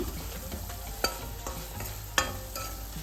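Masala spices fry in hot oil for a drumstick sambar, a soft steady sizzle broken by a few sharp clinks of a stirring spoon against the pan.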